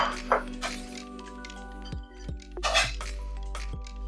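Fried garlic is scraped and tipped from a pan into a plate or bowl, giving several sharp metallic clinks and scrapes of utensil against cookware over a low steady hum.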